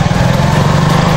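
A motorbike engine runs steadily and close, a loud continuous buzzing drone that holds even throughout, with no talking over it.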